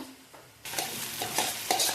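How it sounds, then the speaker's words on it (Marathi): Cumin added to potatoes frying in a kadai, a quiet sizzle that jumps louder as the spatula starts stirring, with repeated scraping strokes against the pan. "बटाटा परतून झाल्यावरती त्यात जिरं टाकून घेऊया"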